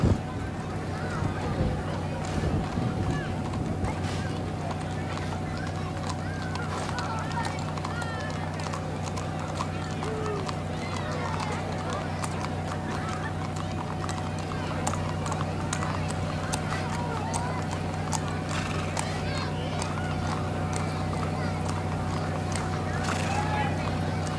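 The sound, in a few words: sheriff's posse horses hooves clip-clopping in parade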